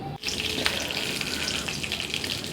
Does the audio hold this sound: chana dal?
yes